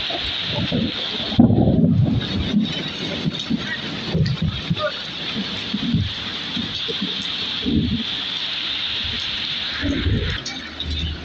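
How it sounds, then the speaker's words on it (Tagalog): Steady heavy rain hisses and drums throughout, with bursts of low rumbling and some muffled talking underneath. "Grabe ang ulan, ang lakas."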